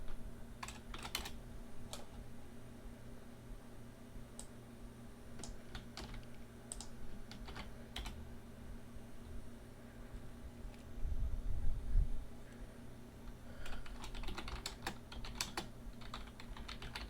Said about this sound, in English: I don't know how much typing I'll be doing